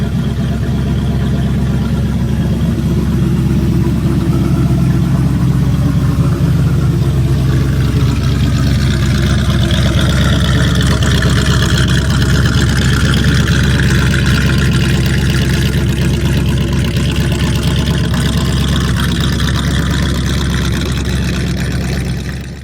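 A 1933 Willys AA gas or drag car engine idling loud and close, a steady, rough, throaty rumble that holds unbroken throughout with no voices over it.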